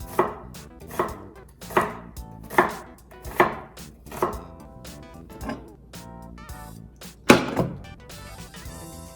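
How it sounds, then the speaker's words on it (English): A knife cuts cooked eggs into pieces on a board for Korean japchae, making about nine close, crisp chopping knocks in a steady rhythm with no talking. "I think I'm just gonna cut all the eggs as well."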